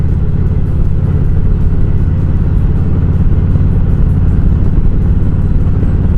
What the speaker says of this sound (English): it's a little squirrely on the gravel, but I'm still doing about 35